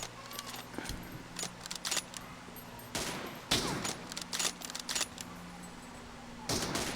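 Sniper rifle shots from an M24 in a team deathmatch video game, several sharp loud cracks spaced a few seconds apart over a steady low hum, with brief rattling bursts between.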